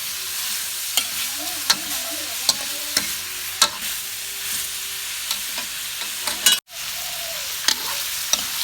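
Garlic and pork belly sizzling as they are stir-fried, a constant close hiss punctuated by repeated sharp clacks of a spatula against the pan.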